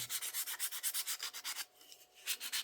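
Steady rhythmic back-and-forth hand sanding strokes on wood, close and fairly loud, with a brief pause before the rubbing resumes.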